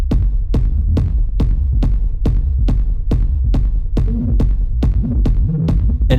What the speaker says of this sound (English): it's all dirty and noisy and weird because it's going through distortion